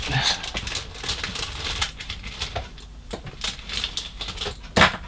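A plastic bag of parts for a Trumpeter 1:350 HMS Dreadnought 1907 model kit is cut open and handled, giving close, irregular clicks, snips and crinkly rustles with brief pauses between them.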